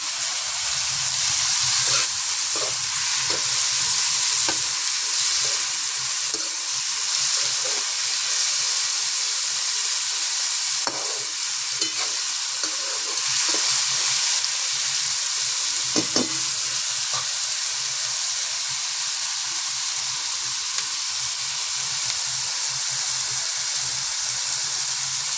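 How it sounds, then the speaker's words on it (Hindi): Tomatoes go into a frying pan of okra and onion for bhindi payaz ki sabzi. A steady, hissing sizzle runs throughout, close and continuous, with occasional faint stirring clicks and no voices. "अब हम इसमें टमाटर डाल रहे हैं।"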